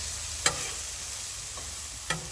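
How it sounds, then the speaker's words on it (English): Sloppy joe ground meat sizzling on a Blackstone griddle, a steady close hiss broken by two brief scrape taps of a spatula. "So let that meat just go ahead and cook right there a little bit."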